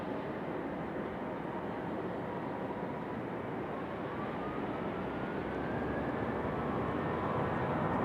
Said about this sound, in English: A little rapid fire departure action happening here.